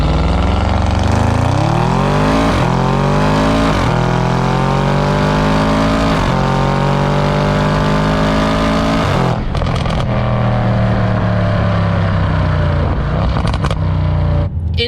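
A 4.0-liter twin-turbo V8 in an Audi RS7 pulls hard through several rising gears, each surge climbing in pitch before a quick shift, loud and close with no talk.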